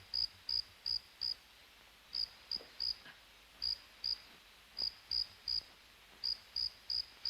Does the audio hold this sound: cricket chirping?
yes